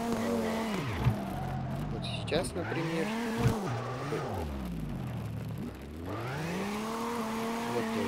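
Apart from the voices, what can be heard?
car drifting in video game CarX Drift Racing 2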